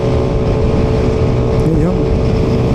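A motorcycle engine drones steadily and loudly on a road trip from Alaminos toward Tarlac City, its revving hum continuous and close with wind noise throughout, rising briefly near the end.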